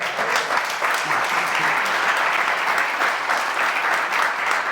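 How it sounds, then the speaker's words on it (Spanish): Sustained applause from an audience at a business talk, a dense steady wash of many hands clapping at a loud, even level throughout, with no pauses. "se lo llevan por ahí, un aplauso."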